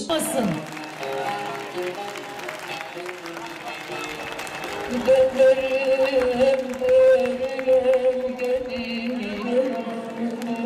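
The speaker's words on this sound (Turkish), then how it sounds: "alkışlarla sahneden onları uğurluyoruz" Audience applause sends models off the stage at a traditional Turkmen costume fashion show, sustained crowd clapping mixed with music and a voice talking throughout.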